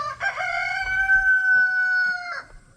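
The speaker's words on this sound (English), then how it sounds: "so that's an adult rooster." A single long crow from an adult rooster rings out up close, a sustained harmonic call lasting about two seconds before tailing off into quiet.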